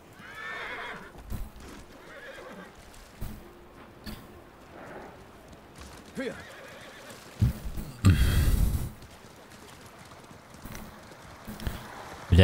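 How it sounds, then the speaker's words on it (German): A horse in the samurai video game Ghost of Tsushima gallops with rhythmic clip-clop hoofbeats and gives a loud whinny, with only game ambience around it. "Wo ist mein Pferd hin? Da ist es."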